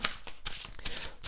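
Tarot cards shuffled by hand in quick riffling bursts, three or four close, crisp flurries in rapid succession with no talking.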